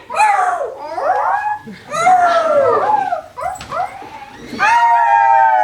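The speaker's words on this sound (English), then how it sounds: "And it was some coyotes." A pack of coyotes howling and yipping, loud and close, with overlapping wavering cries that rise and fall in repeated bursts.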